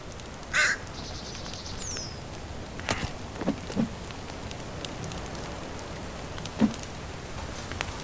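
Crows caw in the woods of the survival video game The Forest, a few sharp calls spread over several seconds against a soft, steady rain-like ambience.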